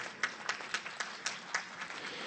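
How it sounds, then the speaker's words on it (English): Faint, sparse applause at a conference keynote speech, with a handful of claps spaced out at a steady pace over a soft background hiss. "Honorable Justice Dr. Syed Muhammad Anwar, a big round of applause for him,"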